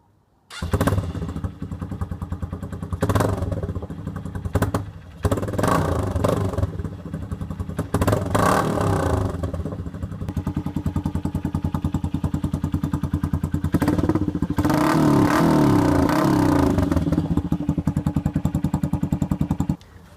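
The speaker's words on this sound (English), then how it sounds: "Now we've installed an aftermarket exhaust, let's see how it sounds." A Honda XR125 fitted with an aftermarket exhaust is heard close up, with a loud, throaty engine that is revved in bursts and then held at a sustained higher rev toward the end.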